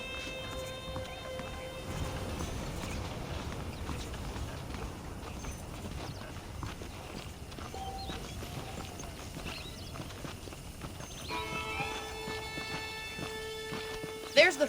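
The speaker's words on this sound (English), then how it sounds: "The horses are saddled up over here." Horse hooves clip-clop in a steady walking rhythm in the video game Red Dead Redemption, moderately close, with voices and tonal game music over parts of the passage.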